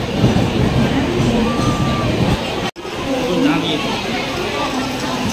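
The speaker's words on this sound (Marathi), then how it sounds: "आणि अशा प्रकारे आपली ट्रेन आलेली आहे" The Konkan Kanya Express 20111 pulls into a station with a loud rumbling roar of rolling coaches, while a voice talks over the noise and the racket briefly cuts out midway.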